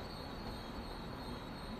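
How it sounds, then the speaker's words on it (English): A Long Island Railroad train rumbles steadily at a passenger stop, a constant broadband roar with a faint high whine, heard from onboard with no talking. "Where is this train that was ahead of us?"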